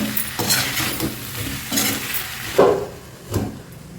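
Capsicum and potato curry is stirred in a pan with a spoon, giving irregular scraping and clinking strokes over a soft background sizzle, with no voices.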